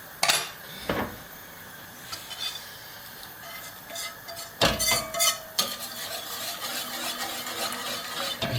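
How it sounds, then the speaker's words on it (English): Spoon scraping and clinking in a pan of simmering mushroom sauce, scattered stirring strokes with a few louder metallic knocks over a soft sizzle. "stirring it around."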